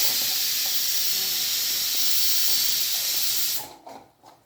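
A pressure cooker on the stove with mutton curry inside, letting off a loud, steady jet of hissing steam that cuts off abruptly near the end, followed by a few softer puffs.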